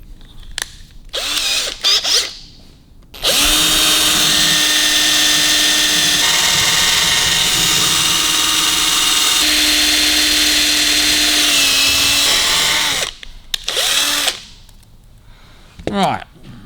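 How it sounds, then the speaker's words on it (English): A power drill bores into a vintage speedometer in a steady, loud whine that lasts about ten seconds. Short bursts of handling noise come before and after it. "You want to use a bigger drill than what you need, but you might have to put a pilot in."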